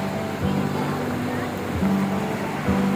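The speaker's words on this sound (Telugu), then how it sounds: "చూడండి, సమ్మర్లో కూడా అలలు ఎంత వేగంగా వస్తున్నాయో." Ocean waves surge quickly onto the shore at Dhanushkodi near Rameswaram in a constant, close wash of surf. Low tonal notes sound over it at intervals.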